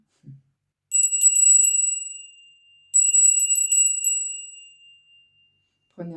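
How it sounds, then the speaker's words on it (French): A small handheld bell rung in a spiritual energy-purifying ritual: two bright bursts of rapid tinkling rings, each decaying into a long clear shimmer, with brief speech at the start and end. "je vais purifier mon énergie et la vôtre avec ma petite cloche"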